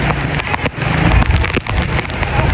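Powerful typhoon gusts sweep through a Bicol street, a loud continuous roar of wind and driving rain with heavy microphone buffeting, swelling and dipping over a few seconds with scattered sharp knocks.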